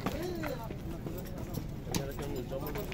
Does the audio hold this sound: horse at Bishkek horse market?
yes